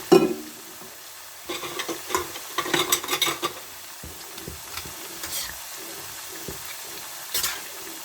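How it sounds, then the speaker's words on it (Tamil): Scraping and clinking of a spoon stirring mint rice in a pot, irregular strokes over a soft sizzling background. "இப்போ பார்த்தீங்கன்னா சாப்பாடை நான் கிளறிக்கிறேன்"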